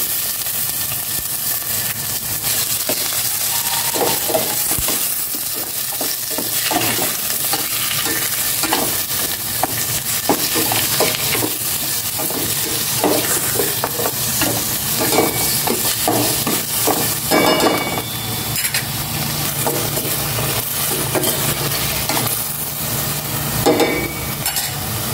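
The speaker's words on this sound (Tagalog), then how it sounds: "ginigisa ko na itong pork" Pork sautéing in a hot pan for chopsuey, with a steady loud sizzle throughout and repeated scraping, stirring strokes of a utensil against the pan, close and continuous for the whole stretch with no talking.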